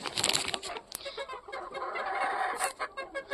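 Dutch crested chickens cluck close by in a garden coop, a busy run of short clucks and squawks with one sharper call near the end, no talking.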